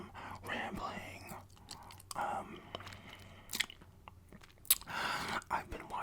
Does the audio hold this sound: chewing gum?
yes